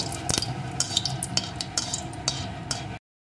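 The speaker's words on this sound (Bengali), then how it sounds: "লঙ্কাটাকে পোড়া পোড়া করে ভেজে নেব।" A dried red chilli frying in hot oil, a close crackling sizzle punctuated by several sharp stirring scrapes and clinks, running steadily for about three seconds before cutting to silence.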